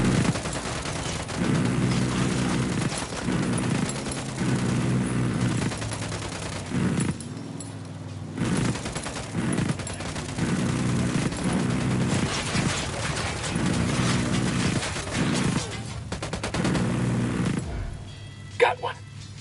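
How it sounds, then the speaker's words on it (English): Sustained bursts of automatic gunfire in the tactical shooter game Ghost Recon Wildlands, loud and dense with repeated volleys and brief pauses, while squad voices talk over the shooting. "Open fire"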